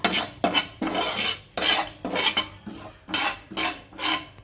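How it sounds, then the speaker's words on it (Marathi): Kalonji seeds stirred and roasted in a pan for raw mango pickle, a spoon scraping the metal in about ten quick rhythmic strokes, close and crisp with a faint sizzle underneath. "आता कलोंजी आहे दोन चम्मच मोठे दोन चम्मच ती पण परतून घेते"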